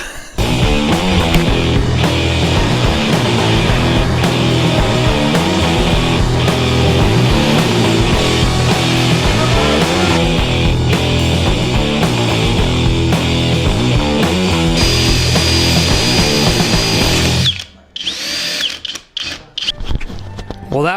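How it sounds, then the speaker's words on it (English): A drill bores the input jack hole through the wooden body of a Les Paul Junior guitar kit, grinding loudly and steadily for about seventeen seconds before stopping, followed by a few faint handling noises. "I'm going to try and drill this in without completely destroying everything I've done."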